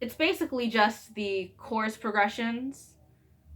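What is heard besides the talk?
No everyday noises stand out.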